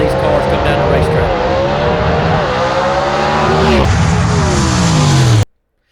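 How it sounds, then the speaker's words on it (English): Gasser drag race cars roar loudly down the dragstrip at Mooresville Dragway, engines screaming as they accelerate past, with a sustained wall of engine noise that cuts off abruptly at the end. "Listen to these cars come down the racetrack."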